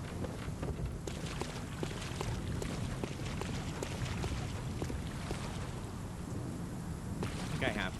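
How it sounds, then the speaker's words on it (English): Thunder rumbles through a steady rainstorm in the game Bloodborne, low rolling booms under continuous hissing rain with scattered drop patters, fairly quiet overall. "Every time thunder goes off in game, I keep looking around my apartment, wondering what the noise is."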